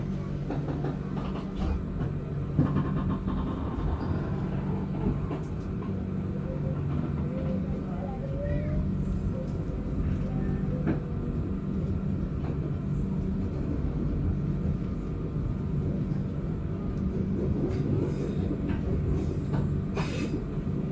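The KA Pangrango New Generation train pulls out of Cicurug station on its inaugural run, with a low rumbling drone, rail clatter and occasional wheel squeal continuing steadily for the whole stretch.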